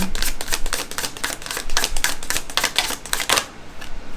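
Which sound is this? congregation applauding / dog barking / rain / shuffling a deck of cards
shuffling a deck of cards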